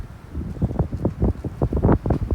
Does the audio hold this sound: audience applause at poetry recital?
no